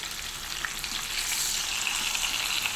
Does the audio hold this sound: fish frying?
yes